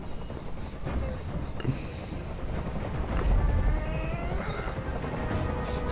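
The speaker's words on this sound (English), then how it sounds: "Tell that helicopter to get out of here!" A helicopter circles overhead during a chaotic hostage scene in the video game Detroit: Become Human, its steady rotor rumble filling the background beneath sharp crashes and gunfire-like bangs that swell toward the middle.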